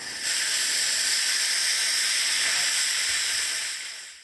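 A special effects steam machine on a trailer releases a loud, steady hiss of steam that runs unbroken for about four seconds before tapering off.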